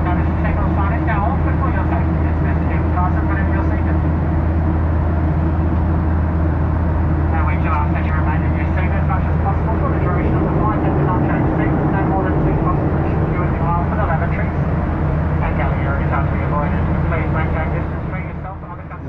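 Steady low drone of a Qantas airliner cabin in flight on a Canberra to Adelaide economy trip, a constant loud hum filling the background with cabin voices talking over it throughout.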